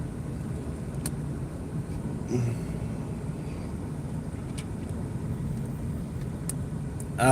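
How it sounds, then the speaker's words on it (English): A car engine with a stock exhaust, not open pipe, runs quietly in the background, a low, steady rumble with no roar and no voices over it. "This car is not open pipe, so it's not gonna roar."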